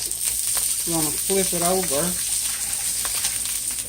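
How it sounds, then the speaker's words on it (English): Steady broadband sizzling of fish frying in a pan runs throughout, with someone talking briefly over it midway. "we'll let that sit there and sizzle for about 5 minutes"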